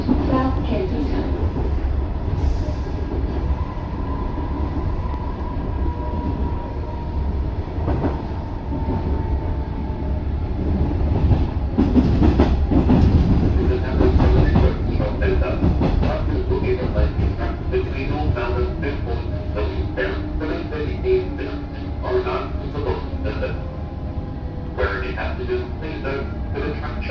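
A refurbished Metro Trains Melbourne Comeng train runs steadily along the rails, heard from inside as a constant rumble with rhythmic clicks and a rising whine, while an announcement voice sounds partway through.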